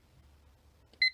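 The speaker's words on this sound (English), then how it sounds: "we set the timer for 30 minutes." A kitchen oven timer set for a baked oatmeal gives a short, sharp electronic beep at the very end after near silence.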